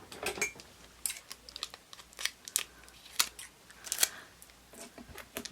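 Scissors snip tape in a series of quick, crisp cuts at close range in a quiet room, with short irregular clicks and snaps between pauses and no voice.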